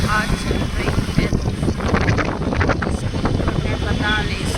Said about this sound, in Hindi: ऐसी सुंदर हवा चल रही है,